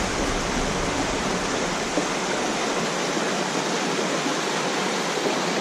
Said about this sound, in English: Waterfalls. Waterfalls.